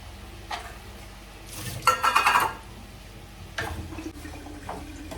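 Tap water runs and splashes over shelled green peas being washed in a kitchen, with a couple of short louder bursts of flow and rattling against the bowl between quieter trickling.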